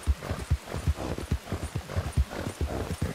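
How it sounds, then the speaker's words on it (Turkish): Horse hooves clip-clopping at a steady gallop in Red Dead Redemption 2 Online, a regular rhythmic beat of close, distinct hoof strikes heard alone. "Biraz yavaşlatayım şu atı da."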